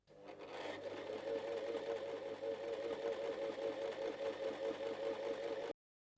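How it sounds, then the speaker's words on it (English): An Empisal Protea Elite sewing machine set to stitch A at length 4 sews a gathering line in one continuous, close, steady run. The whir cuts off abruptly near the end. "Start sewing."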